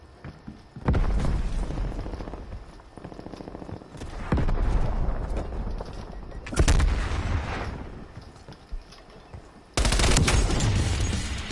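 Gunfire in the video game Call of Duty Black Ops Cold War on PS4, loud repeated bursts of shots with sharp onsets scattered through the stretch, with noisy game ambience between them.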